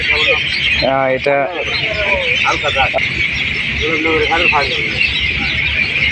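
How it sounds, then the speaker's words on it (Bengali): Myna birds chatter in the evening by a bridge near a river, a loud and busy mass of chirps and squawks close at hand, with a voice briefly speaking over the birds. "শালিক পাখির কিচিরমিচির এত সুন্দর শোনা যাচ্ছে সন্ধ্যাবেলা ব্রিজের সাথে"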